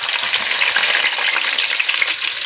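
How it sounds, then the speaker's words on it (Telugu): Finely chopped onions hit hot oil and fry with a loud, dense crackling sizzle that holds steady from start to finish. "అందులోకి సన్నగా కట్ చేసిన ఆనియన్ ముక్కలు వేసుకున్నాము."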